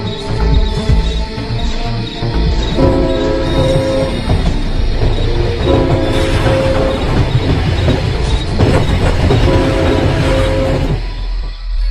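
A train rolls past on a railway line, loud and close throughout, with steady rumble, clicking wheels and repeated squealing tones, in a dramatised audio story.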